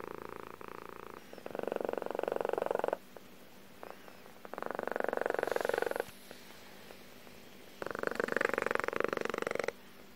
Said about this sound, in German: Sie schläft gerne am Schoß und schnurrt genüsslich.